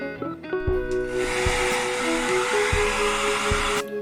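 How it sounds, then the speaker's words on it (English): A hairdryer blowing hot air across liquid acrylic paint in a pouring-art session, a steady close whooshing hum lasting a few seconds, with faint knocks and tonal music underneath. "it can be a hairdryer"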